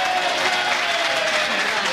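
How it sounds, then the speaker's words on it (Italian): Applause from a studio audience greets the first contestant at a joke-telling show in Lucca, with dense, steady clapping lasting the whole moment. "dobbiamo accoglierlo con un grande applauso il primo concorrente"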